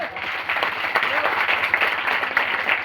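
An audience at a religious talk in a village gathering claps briskly for a few seconds, moderately loud and steady with a faint voice underneath.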